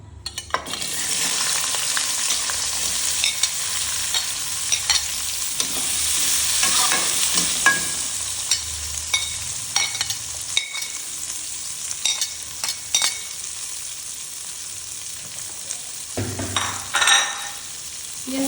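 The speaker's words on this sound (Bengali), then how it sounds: "এখানে আমি তেলটা গরম হয়ে গিয়েছে পেঁয়াজ কুচি দিয়ে দিব দেখুন" Chopped onion sizzles steadily in hot oil, with intermittent clicks and scrapes of stirring throughout; a continuous fry with no voices.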